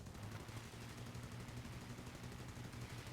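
Gunfire crackles through a War Thunder replay as a sound bug, a rapid, steady stream of shots rattling continuously at low volume with no voices over it.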